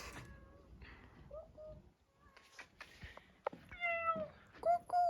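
A cat meows several times, rising and drawn-out calls growing louder toward the end, with soft outdoor background noise and footsteps.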